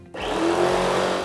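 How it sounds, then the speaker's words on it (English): A spray machine's pump switches on to prime, starting abruptly and settling into a loud, steady motor whine and whir close by, with no talking. "Come over to the knob and you put it to the prime position and you switch on."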